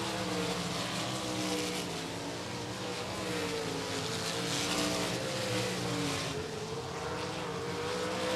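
Race cars roar around the oval at Golden Triangle Raceway Park in Texas, a continuous loud engine drone with shifting pitch as the pack runs out of turn two near the end of a race.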